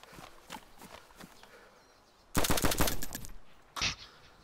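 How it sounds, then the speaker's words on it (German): A burst of rapid gunfire rattles out loudly in DayZ Standalone, followed by a single short volley, after quieter scattered clicks and footsteps; video game shooting. "Ja, Schüsse immer noch."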